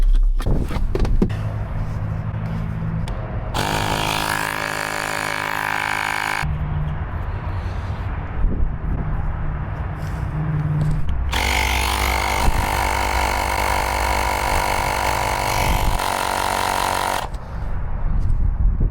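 LiTHFLOW cordless portable tire inflator running while filling car tires, a loud buzzing motor drone in two long bursts of a few seconds each with quieter gaps between, close by.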